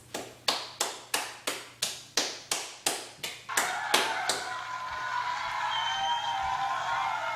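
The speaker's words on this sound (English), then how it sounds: "Let's give a round of applause for our lords." A school audience at a Romeo and Juliet performance claps in a slow, loud, unison rhythm of about a dozen beats, then breaks into sustained scattered applause with some cheering.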